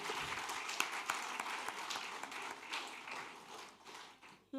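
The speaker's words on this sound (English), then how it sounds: "let's give ourselves a hand of applause because we have made it possible." An audience at a women's congress convocation applauds, a steady faint wash of many hands clapping continuing throughout.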